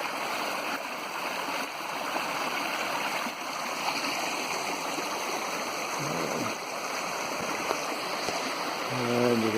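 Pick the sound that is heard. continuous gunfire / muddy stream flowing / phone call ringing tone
muddy stream flowing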